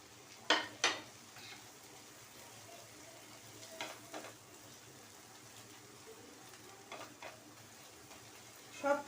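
Tomato and ginger fry quietly in a home kitchen pan, a low steady sizzle broken by a few sharp scrapes and taps of a spoon against the pan.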